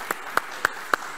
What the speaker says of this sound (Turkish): Alkış alalım mı?